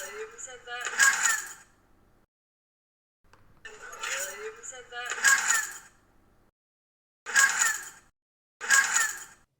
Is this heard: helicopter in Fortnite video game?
no